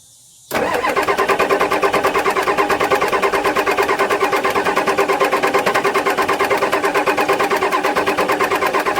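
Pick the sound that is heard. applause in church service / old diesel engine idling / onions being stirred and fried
old diesel engine idling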